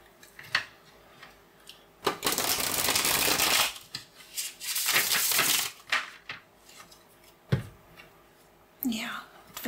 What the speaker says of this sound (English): this should be fairly easy to shuffle